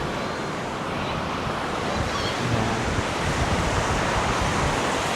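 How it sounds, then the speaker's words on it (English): Steady, broad roar of ocean waves on an Australian beach, continuous and fairly loud, mixed with wind buffeting the microphone and no voices. "you can see now better the waves here"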